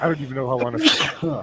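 Someone lets out a quick, sharp sneeze during casual conversation, the short burst cutting in among overlapping voices talking close by.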